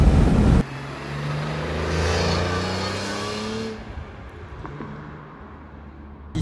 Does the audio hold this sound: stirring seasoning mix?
no